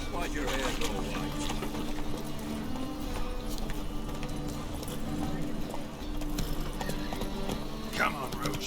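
Roach, a video game horse, trotting with steady clip-clop hoofbeats under a busy game soundscape, with a voice talking over the hooves.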